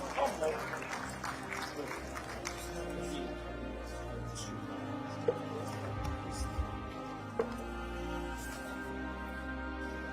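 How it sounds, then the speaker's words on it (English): A conference audience at Cop28 gives the summit president a round of applause, clapping most strongly at the start before thinning out into scattered claps and room murmur. "please do give our Cop28 President another round of applause"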